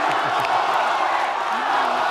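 Audience at a televised Indonesian presidential candidates' debate applauding and cheering after a host's prompt, a dense, steady wash of crowd noise with whoops, loud and continuous throughout.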